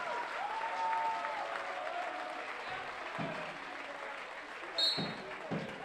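An arena crowd at a Bundesliga wrestling match between RSC Inzing and KSV Goetzis applauds steadily throughout, a dense sustained clapping with a voice talking over it.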